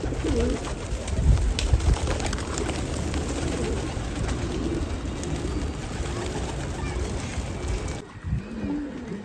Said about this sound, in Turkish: Bak kuşlar hemen yanımızda.